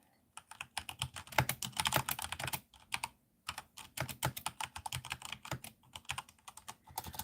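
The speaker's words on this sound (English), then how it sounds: "I don't love the sound of the spacebar." Steady, rapid typing on a computer keyboard, close and soft, with the occasional heavier spacebar thump breaking up the quick key clicks.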